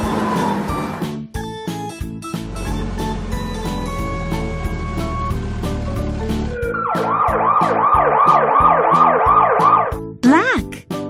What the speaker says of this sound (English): Red. Fire engine.